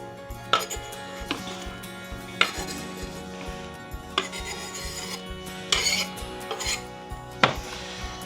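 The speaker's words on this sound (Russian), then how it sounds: "Сюда мы добавим нашу капусту теперь." Shredded cabbage goes into a pot of borscht in a kitchen, heard as a series of close, sharp knocks and clinks of a utensil against cookware amid soft rustling and scraping.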